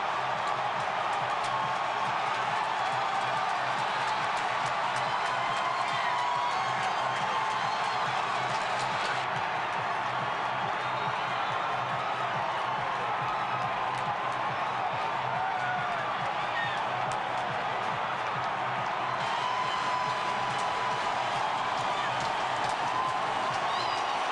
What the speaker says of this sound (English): And listen to this crowd. They have gone banana.